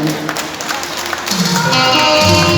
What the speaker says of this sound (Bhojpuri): एक बार जयनगर के लिए ताली बजा दी